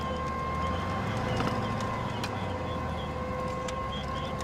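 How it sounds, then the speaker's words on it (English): Tornado sirens in Crescent, Oklahoma, during severe storms: a steady, wavering tone drones in the distance under constant background rumble, continuous throughout without a break. "Tornado sirens are going off."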